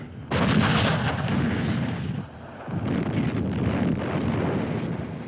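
Heavy artillery salvos opening the 1968 siege of the US Marine base at Khe Sanh in the Vietnam War: a sudden loud blast then sustained rolling, thundering fire that dips briefly and surges again, no voices.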